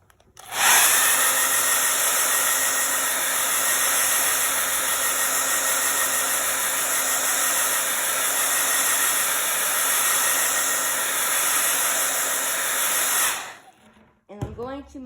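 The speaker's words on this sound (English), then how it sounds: "I'm going to blow this dry just to make sure it's dry." A hair dryer blows steadily and loudly for about thirteen seconds to dry paint on a softball, a continuous airy whoosh with a high whine, then cuts off and is followed by brief handling noises.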